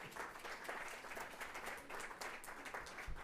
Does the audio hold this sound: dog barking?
no